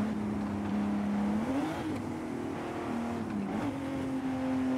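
A car engine drones steadily at speed in the racing game Forza Horizon 5, its pitch dipping and rising with gear shifts and throttle changes, loud and continuous with no talk.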